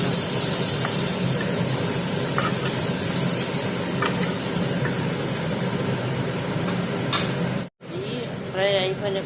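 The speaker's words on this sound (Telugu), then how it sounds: "1 స్పూనుడు అది కూడా వేసేసి ఈ విధంగా ఫ్రై చేస్తాను" Eggs frying in oil with turmeric, salt and chili powder, a loud, continuous close sizzle with a few stirring clicks and a brief drop-out near the end.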